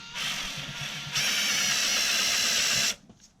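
Ratchet spinning a wobble socket while working on a 2015 Mustang GT with a misfire, a fast continuous clicking buzz close up for about three seconds, then stopping.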